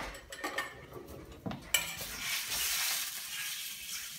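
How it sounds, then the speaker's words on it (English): A spoon scrapes and clinks through Spanish rice cooking on high heat in a pan, with a few sharp metallic taps followed by a continuous soft sizzling, up close and without talk. "I'm gonna just grab a spoon really quick"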